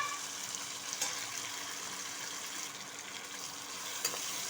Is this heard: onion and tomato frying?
yes